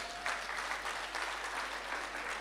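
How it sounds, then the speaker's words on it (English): Audience at a blockchain and metaverse seminar giving a round of applause, a steady wash of clapping that holds evenly for a couple of seconds at moderate distance. "Give yourself a round of applause."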